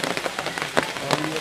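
Steady rain patters on a surface, with a few louder drops or splashes standing out over the continuous hiss.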